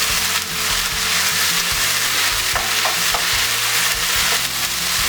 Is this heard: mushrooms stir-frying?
yes